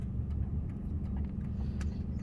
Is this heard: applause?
no